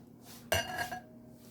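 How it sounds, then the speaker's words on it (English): Eggs added to cornbread muffin batter for blueberry cornbread muffins, heard as a single sharp clink against a bowl followed by a brief ringing tone and a second softer tap, close and alone. "And now I'm gonna add the eggs in"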